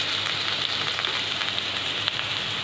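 Thinly sliced onions with red and green bell peppers fry in a pan for macaroni, giving a continuous dense crackling sizzle at even loudness with faint stirring ticks and no voices.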